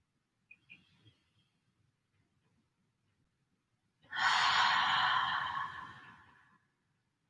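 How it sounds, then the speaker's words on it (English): A single long, deep breath is drawn in and released during a yoga session, a close airy exhale lasting a couple of seconds after a few faint quieter sounds in an otherwise silent room. "A few more big, deep breaths here."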